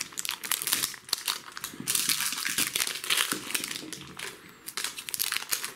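Plastic wrapping of an L.O.L. Surprise pets toy package crinkles and crunches as it is opened by hand, close and fairly loud, in continuous bursts with no talking.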